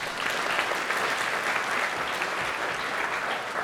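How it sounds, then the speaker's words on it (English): Audience at a caregiver rights and financial responsibilities event applauds for its sponsors, a continuous, even wash of many hands clapping at moderate loudness with no speech over it. "They are our primary sponsors. Let's give them a round of applause."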